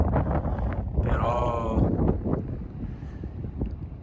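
Strong wind buffets the microphone at about 1300 metres in the Sardinian mountains during rain, a rough, gusty rumble throughout, with a person speaking close over it.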